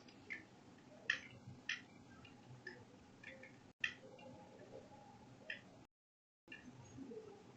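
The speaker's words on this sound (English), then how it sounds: "and I'll be clicking on save." A computer mouse clicks to save a file during screen work, sounding as a few crisp, quiet isolated ticks spaced apart over a low, faint room hiss, with a brief silent gap near the end.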